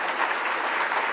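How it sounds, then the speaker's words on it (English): An audience at the National Bike Summit gives a round of applause, a full, dense wash of clapping that stays steady and loud for the whole moment with no voices over it. "another round of applause for Earl"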